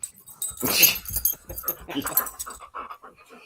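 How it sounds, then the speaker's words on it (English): A dog pants and whimpers close by, quick breathy huffs mixed with faint jangling and a person speaking softly over it. "I think the doggy approves of all of this nonsense."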